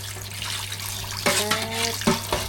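Tap water runs into a kitchen sink while squid is washed, a steady close splashing with a few louder bursts and clatters near the end.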